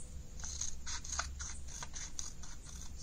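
Scissors cut through a sheet of paper along a folded crease in a run of short, close snips and rasps over a low background hum.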